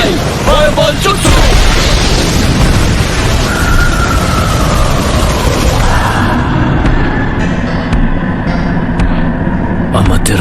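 A fire-style fireball jutsu explodes in a loud, roaring blast that rushes on for about ten seconds, a dense, sustained burst of flame with voices mixed in over it.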